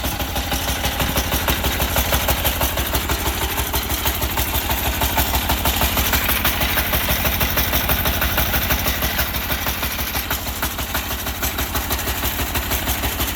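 A Sears Suburban garden tractor with a 6HP diesel engine idles steadily nearby with a continuous low, throbbing rumble and no breaks.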